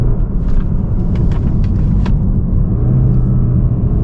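Synthesized diesel engine note from a BMW 3 Series piped through the cabin speakers, a steady low rumble held loud and even throughout with a few faint ticks over the top.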